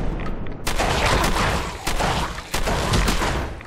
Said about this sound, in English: we are going to see if we can shoot its leg off